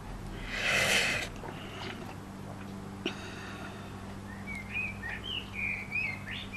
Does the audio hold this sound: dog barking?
no